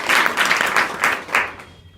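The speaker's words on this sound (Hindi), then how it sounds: "ताली बजाओ।" A short burst of clapping from a group, several claps in quick rhythm, fading out after about a second and a half.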